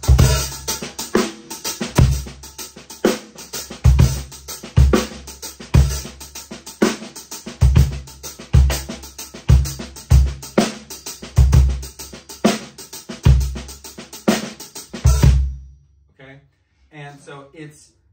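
A drum kit plays a shuffle, with swung hi-hat triplets, ghosted snare strokes and kick drum hits in a loud, close, driving loop. The playing stops and a voice briefly speaks at the end.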